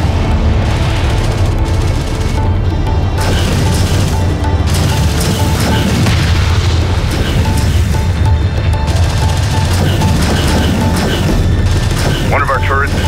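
Combat in the Homeworld: Deserts of Kharak game as a turret takes fire: dense, continuous booms, gunfire and mechanical rumbling fill the whole stretch at high volume, with game voice alerts heard over the battle.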